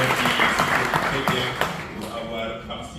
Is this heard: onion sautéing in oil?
no